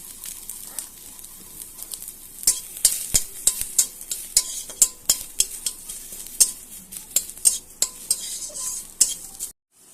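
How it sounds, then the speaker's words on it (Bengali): Crushed garlic fries in a little mustard oil in a wok, with a soft continuous sizzle under a quick, rhythmic series of spatula scrapes and taps against the metal. "কড়াইতে একটু একদম একটু সর্ষের তেল দেব ওর মধ্যে দিয়ে দেব একটু কোচানো রসুন"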